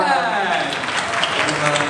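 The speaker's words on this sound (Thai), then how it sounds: "ขอเสียงปรบมือดังๆนะครับ" A crowd applauds steadily, a dense wash of clapping that fills the short moment without pause.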